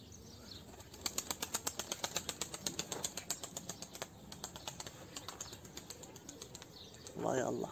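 A pigeon's wings clap and flap in a rapid, rhythmic series of sharp beats close by, easing off toward the end, with a faint voice and outdoor background underneath.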